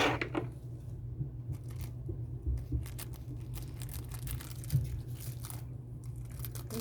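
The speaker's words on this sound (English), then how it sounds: "These scissors were not cutting good anymore either." Worn, dull scissors cut through thin material during a resin-crafting haul unboxing. Several quiet, crisp snips and crinkles come close to the mic at an irregular pace, with no talking.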